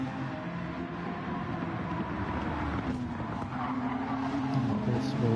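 Supercar tyres squealing and skidding as the car wobbles out of a corner in a racing game, a sustained screech over a steady engine drone that builds slightly toward the end, with no talk.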